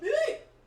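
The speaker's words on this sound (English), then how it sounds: "I burped." A short, close burp, a single throaty gulping croak under a second long that fades quickly.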